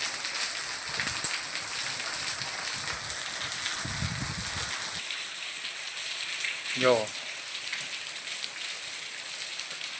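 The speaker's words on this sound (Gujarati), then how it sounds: "વરસાદ અત્યારે ફૂલ ચાલુ થઈ ગયો છે" Heavy monsoon rain pouring on a village, a loud continuous hiss of drops hitting surfaces throughout, with someone briefly speaking over it.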